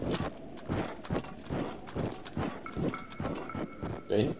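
Rhythmic clip-clop of horse hooves in The Legend of Zelda: Breath of the Wild, a steady trotting beat of close, moderately loud footfalls across open snowy terrain with light game ambience and a brief chime near the end.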